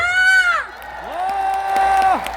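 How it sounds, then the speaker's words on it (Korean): At an outdoor Gyeyang district day concert in Incheon, a large crowd gives two long, loud, rising cheers and whoops, with scattered applause claps beneath the voices. "박수"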